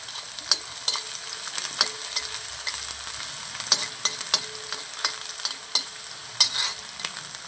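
Finely chopped onion and garlic frying in a pan, a soft continuous sizzle broken by sharp clicks and scrapes of stirring at irregular intervals, close and fairly quiet.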